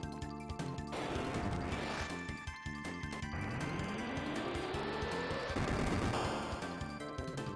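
Fire 2 spell from Chrono Trigger on the SNES, a loud crackling blast with rising and falling sweeping tones and chiming effects layered over a busy game soundtrack.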